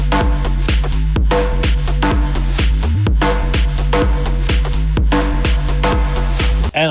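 A loud, dense dance music track plays with a driving four-on-the-floor kick, pulsing bass and bright synths, continuous throughout with no voices.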